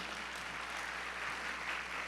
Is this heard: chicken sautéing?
no